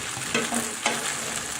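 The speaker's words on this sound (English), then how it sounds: "And now we'll fry it on the other side until it gets the same beautiful color." A breakfast skillet casserole fries in a pan after being flipped, giving a continuous close hiss of sizzling with a couple of brief brighter crackles.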